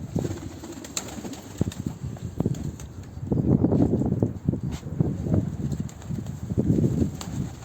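Pigeons coo in a bird enclosure with growing young birds, low rolling calls repeating steadily and fairly close, mixed with light scuffles and background noise.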